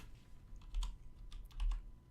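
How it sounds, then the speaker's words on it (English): A loud computer keyboard rattles out two short clusters of clacky keystrokes close to the microphone, separated by a brief lull over a faint steady hum. "I bought the wrong keyboard and my keyboard's really loud."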